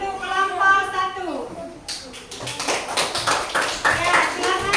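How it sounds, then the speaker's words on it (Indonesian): Classroom clapping for a student group, uneven and scattered hand claps by a class following a brief spoken voice at the start. "Oke, kita beri tepuk tangan untuk kelompok 1."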